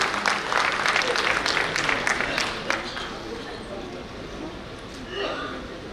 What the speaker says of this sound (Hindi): कृपया एक बार जोरदार तालियां